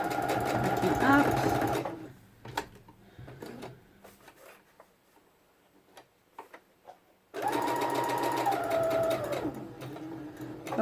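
An electric sewing machine stitches fabric petals in two close, loud runs separated by a quiet gap with small handling clicks, and a voice speaks briefly.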